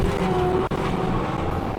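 A skid steer fitted with a disc mulcher attachment drives forward, its engine and spinning mulcher making a steady, loud, dense mechanical roar with a brief dip in the middle.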